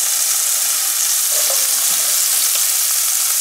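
Onions frying in a hot pan for a Bahamian 'fire engine' dish, a steady soft sizzle with faint stirring scrapes, close and continuous with no talk.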